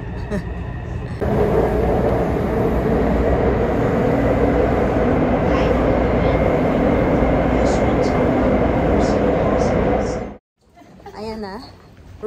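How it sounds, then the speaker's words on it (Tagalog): A train in Taiwan gives a loud, steady rumble with rushing noise for about nine seconds, then cuts off abruptly, after which people's voices are heard. "Ang ganda ng train dito."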